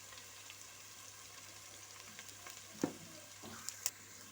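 Tomatoes fry in a pan while pilau is being cooked, giving a faint, steady, even sizzle with a couple of small sharp pops near the end.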